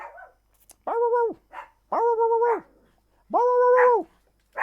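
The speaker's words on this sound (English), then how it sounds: "I don't know what he's barking at, but he's not too serious about it." A dog barks three times in slow, drawn-out, howl-like bursts with short gaps between them, fairly close and clear, with only faint quiet sounds between the barks.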